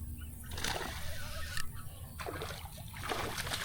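A bass strikes a soft-plastic swimbait in a Fort Worth lake, producing a few bursts of splashing and sloshing water, close and fairly loud, between quieter stretches of lapping water.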